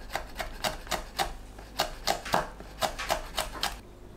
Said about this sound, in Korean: 홍고추는 씨 빼고 작게 썰어줍니다.